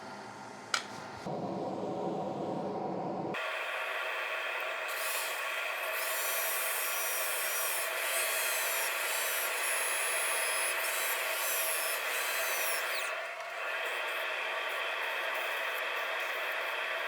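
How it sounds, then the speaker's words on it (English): Quick power sanding of a heavy-duty wooden kids plate, a steady close whirring rasp that runs nearly unbroken after a brief start, with a short dip partway through. "Very quick sand."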